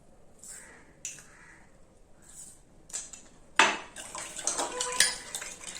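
A spoon beats egg, milk and sugar in a bowl for French toast, quick clinking and scraping against the dish that grows louder toward the end, while crows caw faintly in the background early on.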